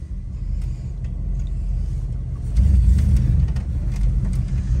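A 1965 Chevrolet Impala pulls away with a low engine rumble that swells as it accelerates, heard near and steady with no talk.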